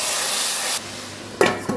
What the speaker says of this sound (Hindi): अब हम इसमें अपना तड़कता फड़कता तड़का डालेंगे।